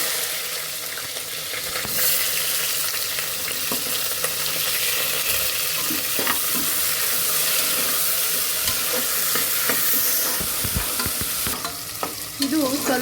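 Onions frying in hot oil with cloves and cinnamon for a mushroom biryani, a loud steady sizzle running throughout with intermittent scraping and clinks as they are stirred, close up, no talking.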